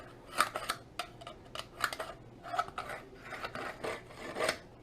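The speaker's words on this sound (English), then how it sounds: "But I always like to give it a good sharpening." A fillet knife being sharpened before filleting a Pacific bonito, giving a series of close, rasping scrapes in irregular bursts of strokes, heard alone without talk.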